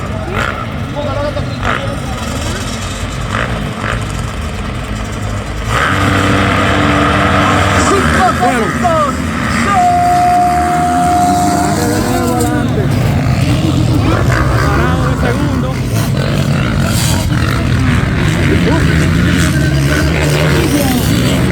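MX1-class motocross bikes rev and roar at a race start, a loud sustained engine din with rising revs and passing machines, heard under an excited commentator's continuous talk.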